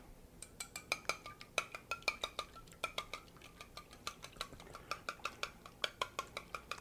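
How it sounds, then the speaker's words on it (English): A whisk beating eggs in a bowl, its wire tines clicking rapidly and rhythmically against the sides in a steady stream of light, sharp taps, close and fairly quiet. "A whisk."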